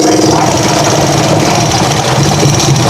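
A tuk-tuk's motorcycle engine strains on a rough, deep, uneven road, giving a loud, close, continuous rumbling drone with steady vibration and no pauses.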